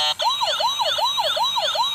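A white toy police car's siren wails in a fast, repeating up-and-down pattern, loud and close, with an electronic, high-pitched tone.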